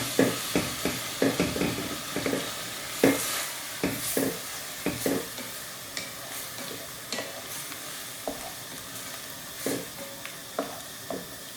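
A pan is scraped and stirred after water goes in with leftover pork and star anise, making repeated scraping strokes over a loud hiss of steam and sizzling juices, with no voices.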